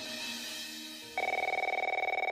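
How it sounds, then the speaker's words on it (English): A telephone rings repeatedly as a sound effect, first a softer tone, then a loud, rapidly trilling bell that pulses in a fast, even rhythm. "The continuous calls on Dan's phone had forced him to wake up the next day"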